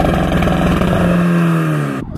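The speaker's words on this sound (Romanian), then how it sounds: "Pe lângă sunetul mai gros pe care îl face mașina" A Stage 3 tuned turbocharged VW Passat B5.5 engine revs loudly with a deep, throaty tone, pitch climbing and holding before cutting off abruptly at the end.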